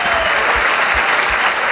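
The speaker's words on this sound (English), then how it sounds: "Let's give him a round of applause" An audience at a debate event breaks into steady, dense applause, a continuous wash of clapping that stays loud and even throughout.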